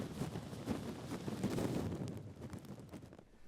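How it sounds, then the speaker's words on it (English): Strong gusting typhoon winds from Typhoon Yagi roar in a broad, steady rush with swelling and easing gusts throughout, loud and close, with no talking. "Winds are at level 7, gusting to level 10, causing widespread tree falls and road blockages"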